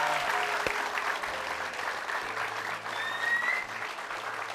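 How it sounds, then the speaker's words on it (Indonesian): A studio audience on a TV variety show applauds Niken, a steady moderate patter of many hands clapping throughout, with faint background tones underneath and no one talking. "Sekali lagi tepuk tangannya boleh untuk Niken"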